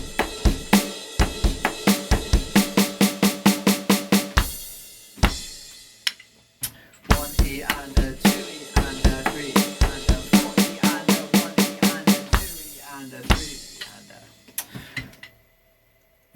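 A drum kit plays the fourth bar of a song at a slightly quicker pace, with tight repeated hits in fast driving runs broken by short gaps, ending in a pause and a final single hit.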